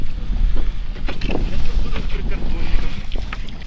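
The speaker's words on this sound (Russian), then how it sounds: "Это лодка." Loud, rumbling motorboat noise on open water with heavy wind buffeting the microphone, continuous throughout.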